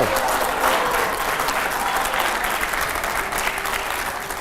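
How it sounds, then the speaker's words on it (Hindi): Loud, steady applause from a studio audience during an exclusive television interview with politician Pappu Yadav, a dense continuous wash of many hands clapping with no break. "जोरदार तालियों यहां पर"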